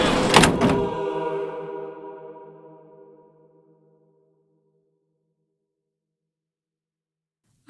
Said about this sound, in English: The door slammed behind us.